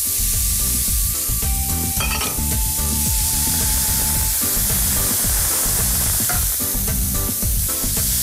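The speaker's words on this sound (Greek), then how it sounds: "Και εδώ σοτάρω τα λαχανικά," Peas, spring onions and carrots stir-fry in oil in a wok over very high heat, a loud continuous sizzle broken by repeated scraping and clattering stirs, with no talk.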